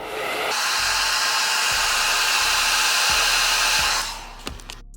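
A hair dryer blows on beauty-supply-store hair extensions, a loud, steady close whoosh lasting a few seconds before it cuts off, followed by a few faint clicks.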